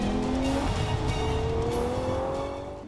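The V12 engine of a Ferrari Purosangue holds a smooth, sustained roar that rises gently in pitch before fading slightly at the end, with no talk over it.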